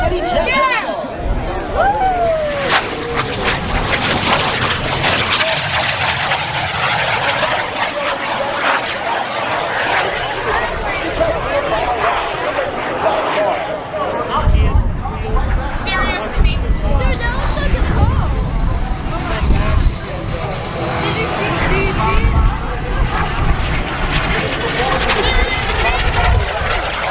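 Tom Larkin's kit-built mini jet, powered by a PBS TJ100 turbojet of 258 pounds of thrust, roars loudly past at an airshow, its whine rising and falling as it climbs and loops, with crowd noise and an announcer underneath.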